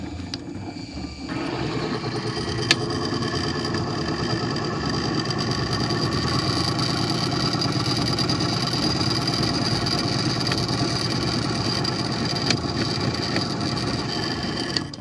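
A friction test machine runs steadily on its engine for an additive comparison. It starts with a clunk, then holds a continuous mid-pitched mechanical drone with a faint whine for the whole stretch, close and loud, with no talking.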